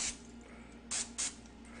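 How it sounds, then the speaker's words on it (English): Cooking spray hisses onto a metal cutter used for Rice Krispie treats in three short bursts: one at the start, then two close together a moment later, all near and crisp. "we're gonna spray our cutter this time"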